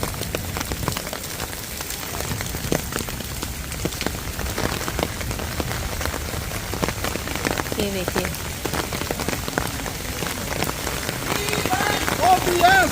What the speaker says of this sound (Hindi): ये देखिए आज सुबह से ही जो है वर्षा हो रही है दिल्ली में और थमने का नाम ही नहीं ले रही है